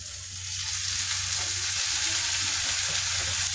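Sliced bitter gourd (ampalaya) sizzles and fries in a hot pan, a loud, continuous hiss that stays steady throughout with a low hum underneath.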